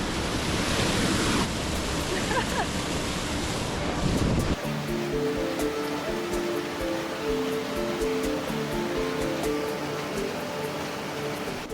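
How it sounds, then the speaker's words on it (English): Waterfall at a desert oasis roars loudly and close for about four seconds, then drops sharply to a softer, more distant rush of water while tonal sounds come and go above it. "I found a waterfall!"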